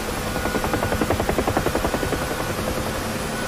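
A UH-1H Huey helicopter in the DCS flight sim, its rotor beating in a fast, regular pulse over a steady turbine drone as the collective is raised, close and loud with no talking.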